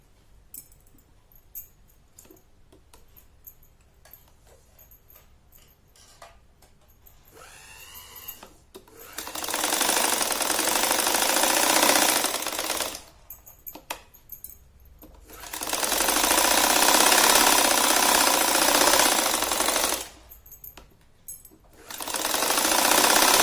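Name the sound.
sewing machine stitching saree waistband fabric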